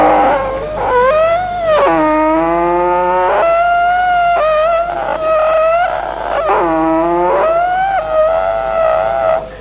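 Unoiled wooden wheel of a bullock cart creaking in long, loud, wavering squeals that rise and fall like a howl, several drawn-out cries in a row with no talk.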